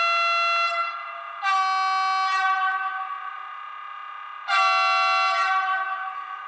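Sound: ESU LokSound horn on a Roco BR185 model locomotive

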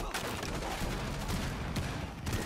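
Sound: gunfire from the video game Rainbow Six Siege

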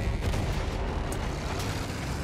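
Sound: explosion and gunfire in Battlefield 1, from a video game

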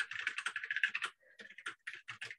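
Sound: typing on a loud computer keyboard

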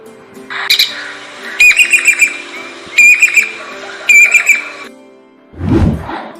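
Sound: Jacobin cuckoo call

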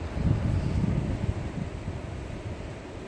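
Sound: wind blowing at the seaside

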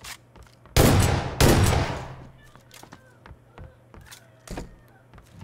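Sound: gunshots in the video game PUBG

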